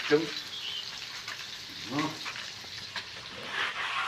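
Tofu fries in hot oil with a steady, close sizzle and crackle, broken by a few stirring scrapes and light clatters.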